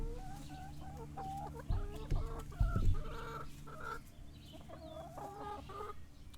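Several backyard chickens cluck and bawk repeatedly, close by and fairly loud, with a rooster-like rising call mixed in and a few thumps midway.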